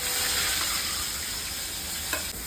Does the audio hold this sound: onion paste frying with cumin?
yes